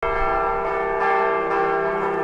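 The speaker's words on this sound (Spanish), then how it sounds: "Me recibe, como podéis ver, la laguna con tañido de campanas" Church bells peal continuously in La Laguna, Tenerife, with sustained overlapping metallic tones ringing out loudly with no voices.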